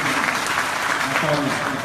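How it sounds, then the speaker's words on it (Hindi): Applause from an audience at a speech event, a brief, steady wash of clapping with voices mixed in. "उसके हौसले को देख के एक बार उस बच्ची को ताली बजाओ।"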